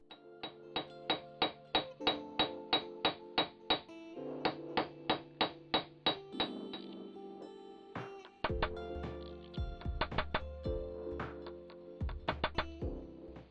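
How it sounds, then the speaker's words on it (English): A hammer peens rivets on a bread knife handle with a steady run of crisp, ringing metallic taps, close and fairly quiet, first evenly spaced and later coming in uneven clusters. "Put in the rivets and peen away."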